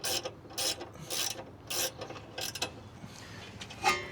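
Wrench work on a Honda Element's front sway bar end link: a series of short ratcheting, scraping mechanical bursts with pauses between, fairly close, and no talking.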